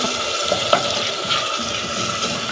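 Tomato sauce poured onto fried onions in a hot pan for an okra dish, giving a steady sizzle and frying hiss with small splashing and stirring sounds close by.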